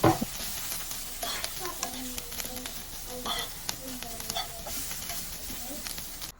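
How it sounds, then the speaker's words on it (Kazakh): Onions and carrots frying in a pan, a continuous close sizzle and hiss with scattered crackles and the scrape of stirring, while a voice speaks in the background. "Пиязымыз қызарған екен, үстіне ұсақтап тұрған сәбізімізді бір 10 минуттай қуыратын боламыз."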